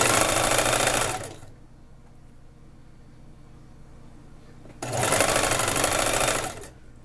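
A sewing machine stitches a half-inch sleeve hem on a batwing top in two loud, close whirring runs, with a quiet pause between them.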